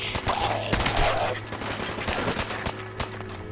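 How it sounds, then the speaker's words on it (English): Assault rifle fire in Fallout 4, a dense volley of rapid shots layered with game effects and a voice talking over the top for the whole stretch. "Back to the good old assault rifle."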